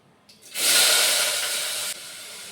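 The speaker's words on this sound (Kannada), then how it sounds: "ಈರುಳ್ಳಿ ರೆಡ್ ಆಗುವವರೆಗೂ ಸ್ವಲ್ಪ ಹುರ್ಕೊಂಡಿದ್ದೀನಿ" Chopped onions hit a hot pan for a chicken dish, breaking into a loud, close, steady hiss that holds for over a second before dropping to a quieter sizzle, with no voices.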